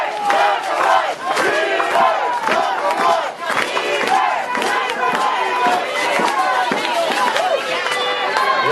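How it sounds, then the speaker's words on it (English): At a youth football game, a large crowd cheers and yells wildly. The roaring, shouting voices are dense and loud and carry on without a break. "the crowd went nuts"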